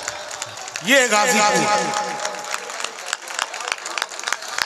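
A live audience at a poetry and literary gathering claps in a burst of applause that rises early and carries steadily to the end, under someone speaking over it.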